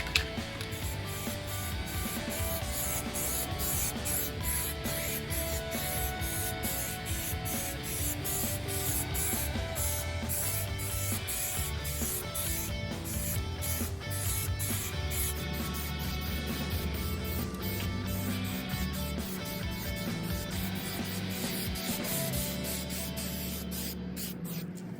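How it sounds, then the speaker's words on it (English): High-fill primer hisses from a spray can onto a BMW E24 valance in a steady, continuous spray, close and loud for the whole stretch, with faint rubbing and shuffling noises along the way. "So we're going to go ahead and just do a first coat of primer"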